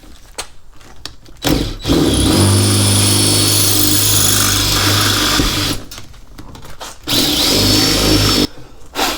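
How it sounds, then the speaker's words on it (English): A loud power drill drills into a bolt head on a 1988-98 Chevy Silverado in two long bursts with a short pause between, its motor pitch steady and grinding, separated by brief near-silent gaps. "I'm gonna use a drill bit. Try and drill the head up a lot."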